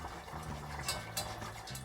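Warm milk is poured slowly into a roux while being whisked over medium heat, giving a soft, steady liquid splashing and stirring with a few brief brighter scrapes of the whisk. No one speaks.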